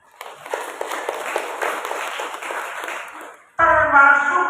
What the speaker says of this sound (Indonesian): Mari kita memberi tepuk tangan untuk itu.